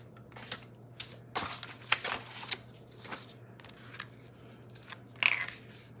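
Scissors snipping ribbon on a handmade paper craft project, a few quiet, sharp cuts and rustles spaced irregularly over a low steady hum, close and faint.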